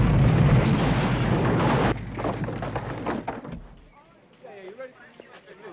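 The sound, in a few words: house exploding from an open gas valve, movie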